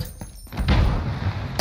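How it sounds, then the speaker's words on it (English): A stun grenade thrown in a Call of Duty battle royale on Rebirth Island: a few light metallic clinks, then a loud rumbling burst that lingers, ending with a sharp crack. "Stun grenade out."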